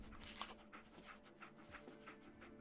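Dogmeat, the German Shepherd companion in Fallout 4, pants in quick rhythmic breaths up close, with soft game ambience underneath and no talking.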